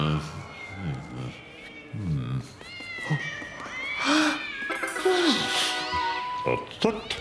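A cartoon cat meowing in the Mr. Bean animated series, several drawn-out, wavering meows and yowls that rise and bend in pitch, mixed with other voices and animated sound effects.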